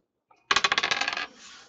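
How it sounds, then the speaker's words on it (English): A single die is shaken and rolled for a sports card case break, producing a quick burst of about a dozen sharp, closely spaced rattling clicks, loud and near, followed by a short fading settle. "just shake one dice for those"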